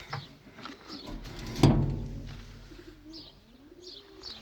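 Domestic pigeons cooing softly outdoors, low throaty calls with a brief louder thump and a few faint chirps.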